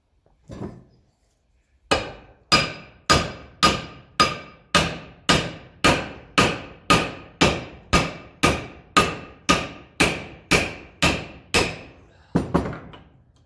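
A hammer taps a part back into place on a 1954 Ferguson TEF 20 diesel tractor: one soft knock, then about sixteen sharp, evenly spaced metallic blows close by, ending with a short rattle.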